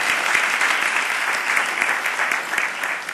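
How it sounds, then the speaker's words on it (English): Audience at a Brooklyn Black History Month community celebration applauds steadily, a dense, continuous wash of many hands clapping that holds at an even level throughout with no voices on top. "Let's give her a nice round of applause."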